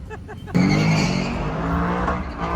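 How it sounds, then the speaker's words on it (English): A car drifting the whole way around a corner on a late-night street, a loud sustained tire squeal and engine roar bursting in and holding steady close by, with voices heard underneath. "That dude just drifted the whole corner."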